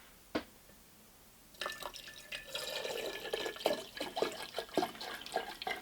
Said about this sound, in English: Actually, I think I can just pour it at this point.